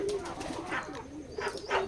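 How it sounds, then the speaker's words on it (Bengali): Pigeons cooing softly at a pigeon farm, a few low throaty coos with faint rustling, close but quiet and heard alone without talking. "এটা আমাদের ফার্ম হাউস, কবুতরের খামার।"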